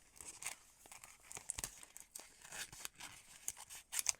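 Paper being cut and torn to remove a section from a roll for a junk journal, giving irregular crinkling, tearing and snipping sounds close by, with sharp crunchy bursts scattered throughout and no talking.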